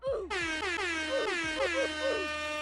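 A loud, close air horn sound effect blares in two or three sustained bursts with a brief dip between them, alone with no talk.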